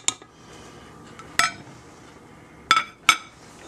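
Potatoes and sour cream being mashed inside a Cuisinart pressure cooker pot: quiet background broken by four sharp metallic clanks, one at the start, one near the middle and two close together near the end.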